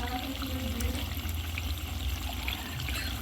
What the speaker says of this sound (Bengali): পরিমাণ মতন আমি চিনি দিয়ে দিচ্ছি, বড় বাটির 1 বাটির মতনই চিনি দিচ্ছি